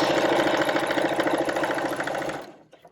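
A sewing machine runs a straight stitch with a steady, rapid mechanical chatter, loud and close, then stops abruptly near the end, leaving a few faint clicks.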